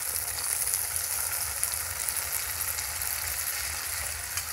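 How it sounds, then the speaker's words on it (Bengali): Steady, close sizzle of spice paste frying in oil for a Bengali doi katla (curd rohu fish) curry, with no voices heard. "এই মুহূর্তে দিয়ে দেব জল।"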